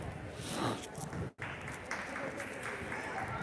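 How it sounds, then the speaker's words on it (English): Applause from a crowd at a girls' high school basketball game, a steady wash of clapping and gym noise with a brief dropout near the start and faint talk underneath. "I assume they're applauding the girls' basketball team."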